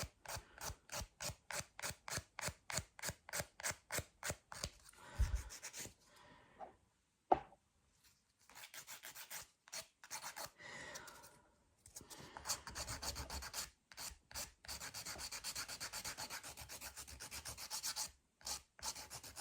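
Nail file rasping across nails in quick, regular back-and-forth strokes, close and fairly quiet, pausing briefly before resuming in a denser run of strokes.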